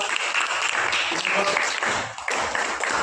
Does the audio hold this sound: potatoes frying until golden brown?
no